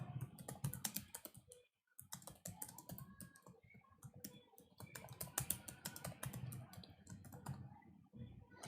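Rapid clicking of keys as code is typed on a computer keyboard, quiet and close, with one brief pause near the start and otherwise continuous keystrokes.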